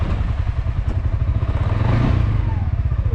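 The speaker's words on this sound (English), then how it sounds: "we'll give it a quick start up now and you can hear how that little single cylinder engine sounds." A small single-cylinder engine of a CFMOTO UFORCE 600 UTV chugs steadily at close range as it starts up, its rapid thumping pulses clattering evenly throughout.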